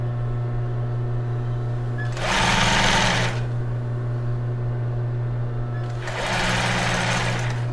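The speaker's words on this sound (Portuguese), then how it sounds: "E costurar na parte superior do elástico." Sewing machine stitching stretched elastic lace onto the top edge of a bra, running in two short bursts a few seconds apart over a steady motor hum, close and loud.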